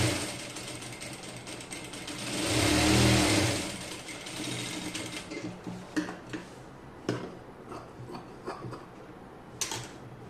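A sewing machine stitches a kurti sleeve, starting with a swelling mechanical whir, then giving way to a run of quick, uneven clicks and taps from the needle and feed.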